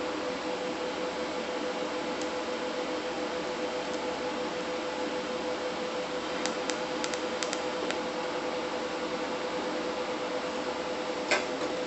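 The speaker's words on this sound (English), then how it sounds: "I'm gonna start here and finish my weld" Welding on the air intake of a Cummins engine gives a continuous close hiss and buzz with a few faint crackling pops, steady throughout and with no talk.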